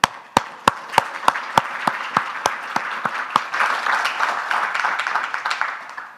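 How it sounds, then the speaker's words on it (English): An audience at a conference session applauds: a few sharp, evenly spaced claps at first, then many hands joining into a steady, dense round of clapping that carries on to the end. "Please give them a round of applause"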